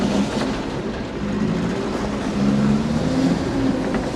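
A vehicle engine runs after its exhaust has been welded, a steady, loud idle rumble with a continuous low drone and some rattling, heard close with no pauses.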